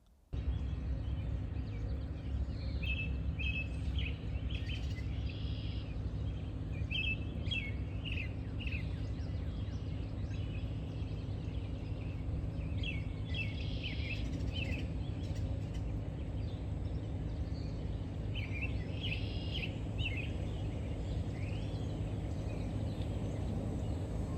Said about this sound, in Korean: 여러 새소리도 들리고 참 평화로운 그런 집입니다